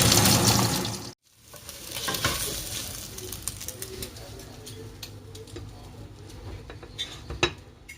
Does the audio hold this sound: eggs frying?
yes